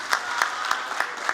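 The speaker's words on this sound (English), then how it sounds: "Please give him another round of applause." An assembly audience applauds a professor, brief moderate clapping with a few sharper rhythmic claps standing out near a steady background of hands, lasting just over a second.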